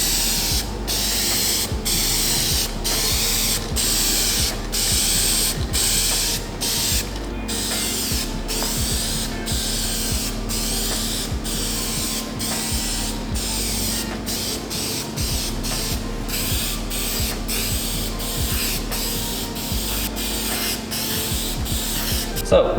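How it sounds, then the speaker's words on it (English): Duplicolor vinyl and fabric coating is sprayed from an aerosol can onto a car door card, steady hissing bursts mixed with a regular ratcheting clicking, close and continuous over twenty seconds. "Then we're going to move straight over to our Duplicolor vinyl and fabric specialty coating right here."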